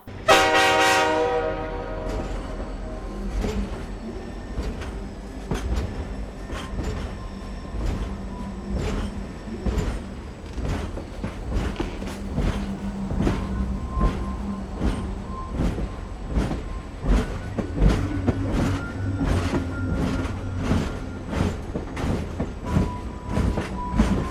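A moving train rolls along the rails with steady clickety-clack rhythm, repeated wheel thumps over joints and a sustained horn-like tone near the start, all close and continuous with no voices.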